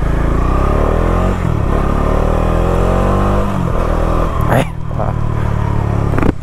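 A Bajaj Dominar 400 motorcycle engine revs and accelerates up close, its pitch climbing through the gears with a brief dip as it shifts, loud and steady.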